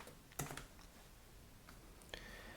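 Typing on a computer keyboard, with a few scattered, sparse key clicks over a steady low background hiss.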